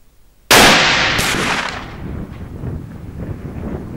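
A single loud, close gunshot from a Savage Bear Hunter rifle in .338 Winchester Magnum cracks sharply outdoors at a shooting range, followed by a long rumbling echo that fades slowly.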